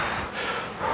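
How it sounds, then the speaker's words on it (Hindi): Exaggerated long, deep breaths demonstrated by a man: a noisy, airy inhale-exhale with a snorting edge, close and loud, with no speech over it. "लंबी लंबी सांस लेता है।"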